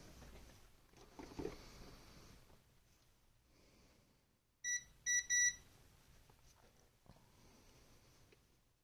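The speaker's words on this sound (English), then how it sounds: "I'm gonna test continuity now." A multimeter beeps during a continuity test while tracing routed wires to the left analog stick on a damaged DualSense BDM-020 controller board, giving a few short, sharp electronic tones, one single then two close together, over quiet handling noise.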